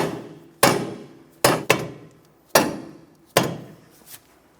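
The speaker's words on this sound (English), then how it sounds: "Using a soft face hammer, tap the bolts into place." Five sharp soft-face hammer taps on strut bolts of a Chevrolet Sonic ring out with pauses between them, two struck in quick succession, each hit leaving a short metallic decay.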